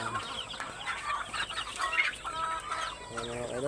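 Chickens cluck and squawk nearby in a series of short, uneven calls, with farmyard background and no talking.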